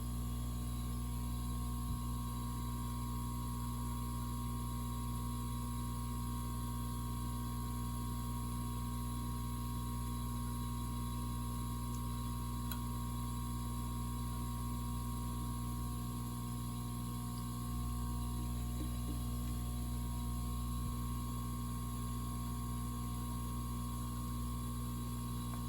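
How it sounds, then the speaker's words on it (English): Air pump of a hot air rework workstation running steadily, a faint continuous mechanical hum and whir with no pauses, alone in a quiet room. "That's the noise in the background is the pump on the hot air workstation, the air pump."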